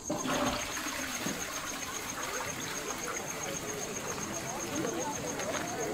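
A toilet flushes at a ranger camp, giving a steady rush of water that holds at an even level for several seconds, with a faint high tone running through it.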